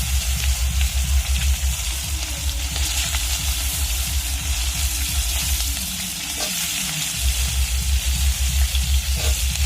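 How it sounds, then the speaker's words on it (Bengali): Cauliflower florets fry in the same kadai that was just used for fish, with loud, continuous, close sizzling and bubbling, a brief softer patch midway, and no talking. "সেই কড়াই আমি এবার কপিগুলো ভেজে দেবো"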